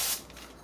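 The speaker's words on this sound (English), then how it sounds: "I'm going to spray my parchment just a touch" Cooking spray misted onto parchment paper: one quick, close hiss of aerosol that cuts off fast, followed by quiet room tone.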